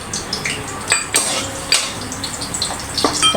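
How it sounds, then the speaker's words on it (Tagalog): Garlic in hot oil in a pan, stirred with a metal utensil: sharp clinks and scrapes against the pan come in irregular bursts over a soft steady sizzle. "umpisa na natin maggisa. Itong bawang."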